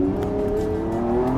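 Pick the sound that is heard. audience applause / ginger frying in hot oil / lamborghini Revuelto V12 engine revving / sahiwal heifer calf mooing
lamborghini Revuelto V12 engine revving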